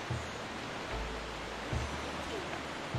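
A video game waterfall rushes as steady broadband noise, a constant close wash of falling water with a few low thumps mixed in.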